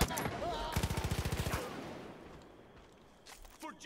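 Rapid automatic gunfire from a weapon in the video game Far Cry 5, a tight burst of about a dozen close, sharp shots followed by quieter ambient noise and a few scattered clicks.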